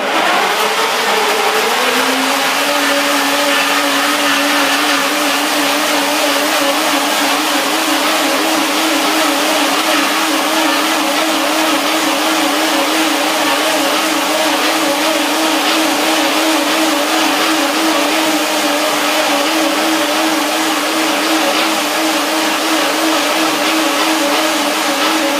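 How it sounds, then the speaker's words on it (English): Blender whirs loudly and continuously, blending blueberry chocolate pudding thinned with a little water, its motor pitch rising at the start and then holding a steady wavering drone. "I can put a little bit of water, just a little bit, into my pudding, just to make the blender work"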